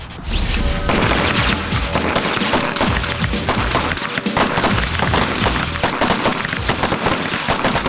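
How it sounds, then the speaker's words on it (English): Gunfire on a range as shooters fire double taps at targets: dense, loud, overlapping shots and booms crowding the whole stretch with little pause between reports. "You're going to be firing double taps. It's 2 rounds, okay, followed by another 2 rounds"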